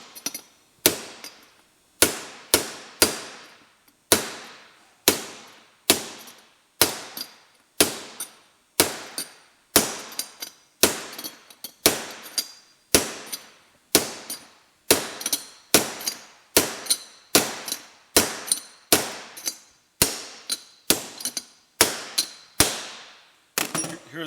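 A socket drives a bearing outer race home on an MGB overdrive with hammer blows, about thirty-five loud, ringing metallic strikes in a steady rhythm, each with a short decaying ring and no talking.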